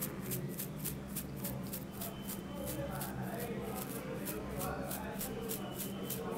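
Faint, rapid spattering flicks repeat in a steady rhythm as a thumb flicks toothbrush bristles to spray a fine mist of paint, over a low background hum.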